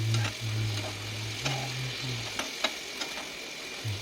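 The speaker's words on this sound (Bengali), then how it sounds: "এবার পটলটা দিয়ে দিচ্ছি, দিয়ে এটাকে ভালো করে আমি কষিয়ে নেব মশলার সঙ্গে।" Potatoes and pointed gourd fry with spices in a pan, giving a faint, steady sizzling hiss over a low hum, with a few light clinks along the way.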